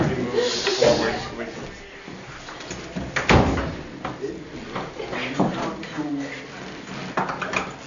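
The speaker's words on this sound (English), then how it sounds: "I wonder if we should shut the door" A classroom door swings shut with a single solid thud midway through, heard under steady nearby talking and light rattling of objects in the room.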